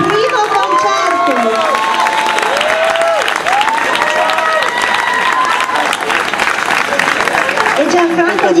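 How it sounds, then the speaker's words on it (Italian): Dense, steady applause from a concert audience at an outdoor town band performance in Cassine, Musica sotto le stelle 2012, filling the whole stretch while an announcer's voice carries over it. "un super applauso perché è il suo primo concerto"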